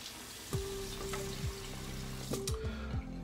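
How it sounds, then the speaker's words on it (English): Water running and splashing at a sink as someone rinses off after a wet shave with vetiver soap, a steady close stream with a few brief splashes and clinks, no talking. "Let me rinse off"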